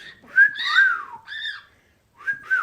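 A bird whistles several short rising and falling notes nearby, with a pause before a final couple of chirpy whistles.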